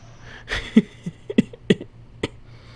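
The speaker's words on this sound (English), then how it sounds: "I don't know why I'm coughing so much." A character in the Fallout 76 Wastelanders video game coughs several times in quick, uneven bursts, close and fairly clear over a low background hum.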